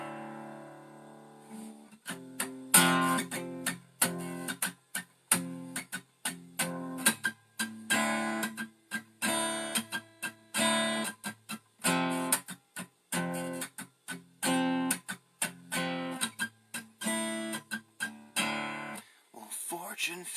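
Mitchell A113CE acoustic guitar in drop D tuning, a full step lower on the low string, strummed in steady rhythmic chords with short pauses between strokes, close and clear, with no talking.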